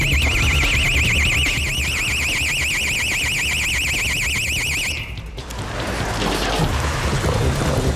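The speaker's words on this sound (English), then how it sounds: "They've tripped the burglar alarm." Burglar alarm triggered during a police raid, a loud warbling electronic siren that cycles rapidly for about five seconds and then cuts off, leaving a noisy rumbling background.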